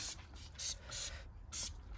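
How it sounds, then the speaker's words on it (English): Autoglym wheel cleaner sprayed onto a car wheel from a trigger bottle, four short close hissing bursts in a loose rhythm, fairly quiet. "I'm just going to spray the product liberally all over the wheel"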